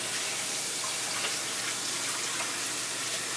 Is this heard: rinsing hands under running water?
yes